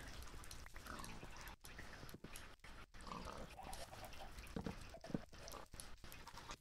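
Pigs grunting in a Minecraft survival multiplayer world, short low grunts scattered over several seconds against a steady game background, with no talking.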